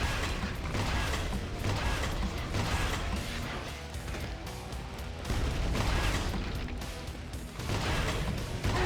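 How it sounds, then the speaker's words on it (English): Doors opening in an alien-shooter video game give a continuous grinding, clanking mechanical rumble with creaks and ratcheting, loud and close, running for several seconds. "Doors open elsewhere."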